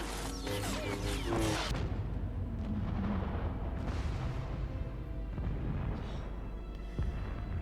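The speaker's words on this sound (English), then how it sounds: "So the generator explosion was just the fire." A generator explosion in The Acolyte: a dense, loud burst of crashing, rumbling debris at the start, then a sustained low roar and scattered cracks and thuds that slowly settle.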